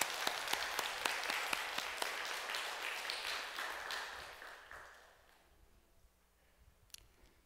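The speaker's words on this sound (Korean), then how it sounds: "우리 영광의 박수를 한번 올려드렸으면 좋겠습니다" A church congregation applauding, a dense burst of clapping that holds steady for several seconds, then fades out into near quiet with a single late clap.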